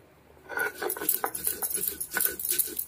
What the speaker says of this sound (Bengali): একদম মিহি করে মশলাটাকে বেটে নেব